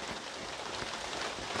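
Steady rain falls across a bitter gourd farm in Kollengode, Palakkad, making a dense, even hiss of drops on leaves and ground with no break and no voices.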